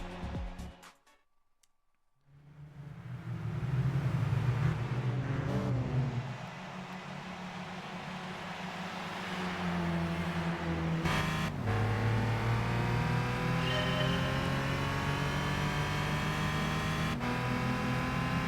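A Renault Sport race car engine in Gran Turismo 5 revs and pulls steadily at high volume, its tone climbing and shifting through gear changes after a brief quiet start, with no talk.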